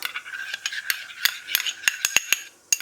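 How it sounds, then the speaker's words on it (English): A utensil stirs crumpet batter in a bowl until the lumps are gone, giving a quick run of close, crisp clinks and scrapes, unaccompanied. "So you just keep stirring until all the lumps"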